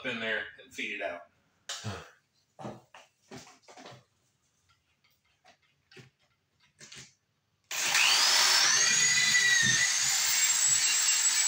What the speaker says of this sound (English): Drill a hole up in there and feed it out.